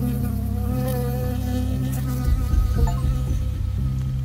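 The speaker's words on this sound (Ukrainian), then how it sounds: "I got stung by a bee." A bee in the video game Firewatch buzzes steadily and loudly close up, a continuous droning hum with a few dull thuds partway through.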